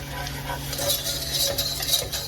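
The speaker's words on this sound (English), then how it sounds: "And now we have cornstarch. 1, going for 4, 2, 3, and 4 tablespoons. Let's whisk that." A whisk stirs cornstarch into a pan of moussaka base, giving close, steady scraping and clinking of metal against the pan with a faint sizzle underneath.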